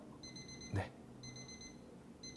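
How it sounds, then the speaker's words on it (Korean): A self-made app's alarm sounds as a repeating electronic beeping tone in two bursts with a gap between them, interrupted by a brief low thump, steady and moderately loud. "알람 울리기 버튼을 클릭을 해볼게요"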